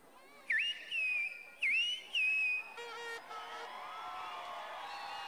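A man whistles to imitate a bird's call, giving two pairs of short, rising whistles at moderate distance, then a crowd cheers and murmurs in the background.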